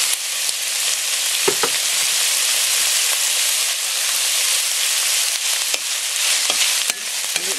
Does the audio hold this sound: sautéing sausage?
yes